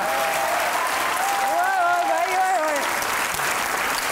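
Studio audience applause on a Hindi comedy show, steady broadband clapping throughout with a voice speaking over it partway through.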